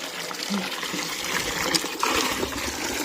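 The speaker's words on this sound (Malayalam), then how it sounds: "വാഴയ്ക്ക് വെള്ളം ഒഴിക്കാൻ പോവുകയാണ്" Water pours and trickles steadily onto banana plants nearby, a soft broadband splashing with a few brief knocks.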